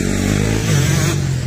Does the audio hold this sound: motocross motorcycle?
yes